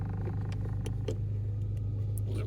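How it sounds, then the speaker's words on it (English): A 2011 Chevrolet Cruze engine idles steadily just after start-up, a low, even hum heard close with faint mechanical ticks on top. "we're just gonna start the car up."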